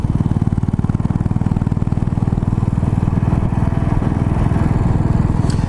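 A Royal Enfield Bullet motorcycle rides through town in the early morning, its single-cylinder engine thumping in a steady, loud, close rhythm throughout, with no talking.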